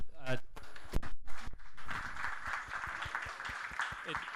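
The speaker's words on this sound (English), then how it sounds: "It well deserves a clap." Audience applause at a talk on low carbon transitions, a steady broadband clapping that rises after a brief spoken lead-in and holds at moderate loudness with some voices mixed in.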